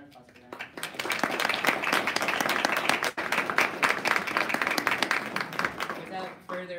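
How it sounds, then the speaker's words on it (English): Audience applause at a community literary event honouring Black women writers, a dense, sustained wash of many hands clapping loudly for several seconds, with a brief dip midway and voices mixed in near the end. "So, round of applause for that."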